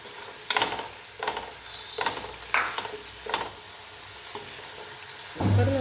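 Prawn biryani masala fries over a low flame in a pan, with a soft sizzle underneath and a series of scraping stirs at a steady pace, ending in a louder clatter as it heats.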